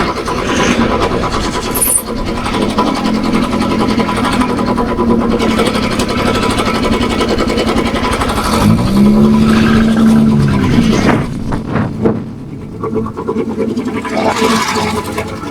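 Motorcycle engine on a solo ride from Delhi to Kalpa: a loud, steady engine drone runs throughout, with a rising whine swelling briefly near the middle before settling back.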